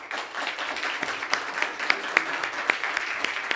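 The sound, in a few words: audience applause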